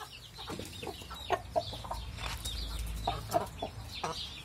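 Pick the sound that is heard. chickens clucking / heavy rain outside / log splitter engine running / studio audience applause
chickens clucking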